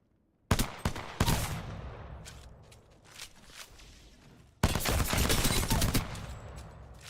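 Automatic weapon in Apex Legends firing close and loud in two bursts of rapid shots, a reverberant tail and game ambience between them, with no voices.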